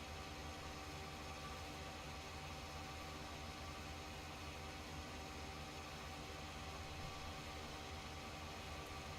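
A tractor engine running in a farming video game, a low, steady drone with constant hum and slight vibration, faint and unchanging for the whole stretch.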